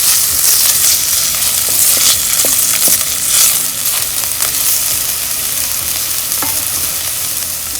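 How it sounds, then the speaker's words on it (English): Onions sauté in a hot pan with a loud, steady sizzle and frying crackle, broken by occasional scraping stirs. "I've added onions and we're going to saute it for 3 minutes."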